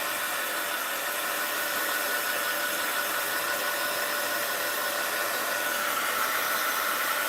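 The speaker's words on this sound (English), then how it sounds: "Let's see what it looks like when I dry it a little here. I can find my heat gun." Steady, close whooshing roar of a heat gun blowing hot air to dry a mixed-media art piece on a cluttered desk, constant and uninterrupted throughout with no talking.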